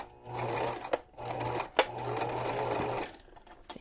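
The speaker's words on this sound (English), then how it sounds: "I don't know why I can't sew a straight stitch." A sewing machine runs in two steady bursts of rapid stitching across fabric, set to its longest stitch, with a brief pause and a couple of sharp clicks between runs.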